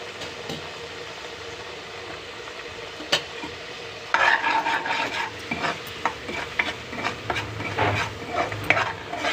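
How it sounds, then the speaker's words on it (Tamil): Masala and chilli powder frying in oil in a pan while mutton gravy cooks, a steady close sizzle with stirring scrapes and clatters that grow busier partway through. "இந்த மசாலாவும் நல்லா எண்ணெயில் கொஞ்சம் பொரியணும்"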